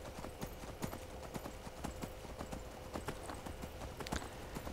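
Steady clip-clop of horse hooves trotting in Skyrim at a quick, even rhythm, fairly close, with no voices over it.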